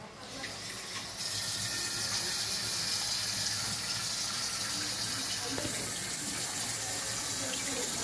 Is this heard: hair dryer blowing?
no